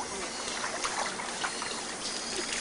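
A toy shower pours water into a bath, a steady splashing trickle and stream running throughout at moderate level, with faint voices in the background.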